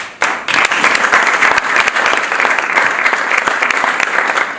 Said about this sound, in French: il y a une équipe formidable que j'aimerais qu'on applaudisse